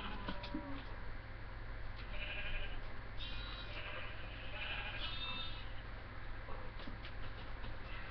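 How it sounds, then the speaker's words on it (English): A baby sheep in the Minecraft video game bleats several times in short, soft calls over a steady low hum of game background sound. "And we've got a baby sheep."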